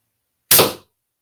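A Daisy BB gun fires a single customized wooden bullet, giving one sharp, loud crack with a quick decay and nothing else around it.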